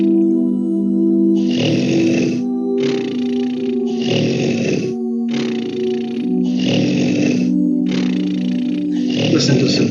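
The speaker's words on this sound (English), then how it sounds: "Listen to some delightful snoring." Loud rhythmic snoring from a sleeping character in the Quest for Glory 5 video game, about seven long rasping breaths in steady succession over a low sustained music drone.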